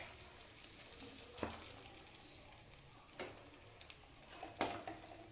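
A spoon stirring pumpkin and raw mango curry with spices in a pan, quiet sizzle underneath with a few sharp scraping strokes spaced apart, soft and close.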